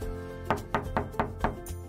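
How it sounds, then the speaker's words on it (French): Five evenly spaced knocks on a door, firm and close, rap out in a steady rhythm over soft background music in a children's bedtime story. "Elle frappe à la porte de la famille Lapin."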